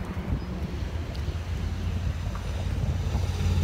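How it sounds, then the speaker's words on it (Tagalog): Strong wind buffets the microphone in a constant low roar, with gusting swells and no voices. "Malamig! Kasi mahangin."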